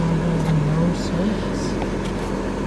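A Volkswagen Beetle cruising down the road, a steady, loud engine drone with low road rumble heard from inside the car, constant throughout with faint voices mixed under it.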